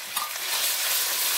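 Ground green chilies fry in a pan, giving a steady bright sizzle with faint stirring scrapes over a brief moment. No voices are heard.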